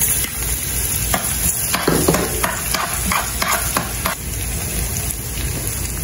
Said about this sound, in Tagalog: gigisahin natin yung bawang at sibuyas